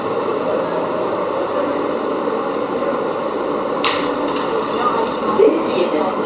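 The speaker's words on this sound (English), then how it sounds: "This is a eastbound E train." An eastbound E train on the New York City subway rumbles steadily in a loud, continuous roar, with a few faint clicks and squeaks on top.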